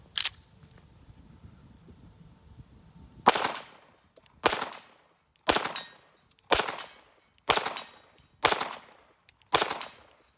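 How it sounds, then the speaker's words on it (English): A DVC Carry pistol fires seven sharp shots at a target outdoors, evenly spaced about a second apart after an opening report, each loud crack trailing a brief echo. "one of the things for me when it comes to shooting a handgun is how quickly can I shoot the handgun and still keep the handgun on target"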